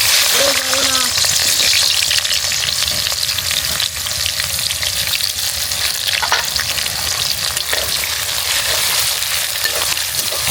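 Onions fry in hot oil in a pan for a village-style chicken chukka, crackling and sizzling loudly and close, with frequent scraping stirs throughout and a brief voice early on.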